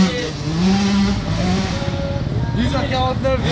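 Motorcycle engine revving at a rough dirt track, a loud, continuous drone with rising and falling revs, mixed with people talking in French.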